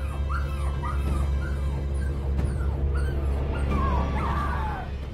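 Dog dying from poisoned fish, letting out a series of high, wavering whimpers and yelps over a loud, steady low background drone, no talk.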